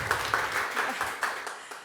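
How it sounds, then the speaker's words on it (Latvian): Seminar audience claps in a brief, moderate round of applause, individual hand claps audible in an uneven patter that thins out toward the end. "Aplausi!"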